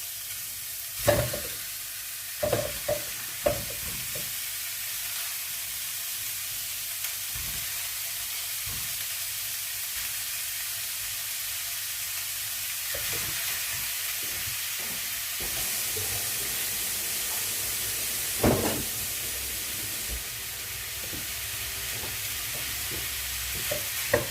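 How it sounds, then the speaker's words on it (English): Minced meat fries in a hot pan, a soft steady sizzle broken by scraping, clattering stirs early on and again later, close and fairly quiet with no speech. "I'm quickly going to fry the mince off"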